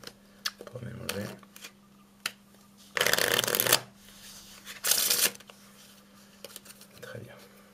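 A deck of playing cards is shuffled during a card-magic routine, with two loud riffling bursts in the middle and softer card handling and faint voice sounds around them.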